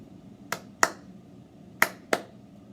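A clapped rhythm of crisp, close hand claps: a pair of quick claps, a gap of about a second, then another pair, loud over near silence.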